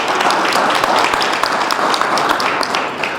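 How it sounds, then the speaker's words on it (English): A short burst of audience applause at a conference talk, dense and loud clapping from a seated crowd that stays steady for a few seconds. "Round of applause, please."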